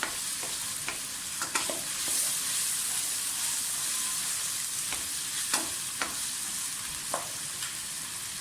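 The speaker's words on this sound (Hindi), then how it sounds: "आलू को फ्राई करें।" Potatoes frying in a pan for matar aloo pulao, a steady bright sizzle with occasional scraping stirs and clicks of a spatula, heard up close with no one talking.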